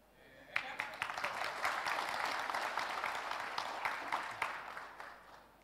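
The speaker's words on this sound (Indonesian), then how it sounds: "Tepuk tangan untuk Pak Akbar." A conference audience claps for a business association chairman, a dense wash of many hands that starts abruptly, holds steady and thins out toward the end, with faint voices underneath.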